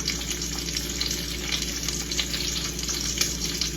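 Bacon frying in a pan gives a close, steady, dense sizzle with soft crackles, continuous and alone without talk.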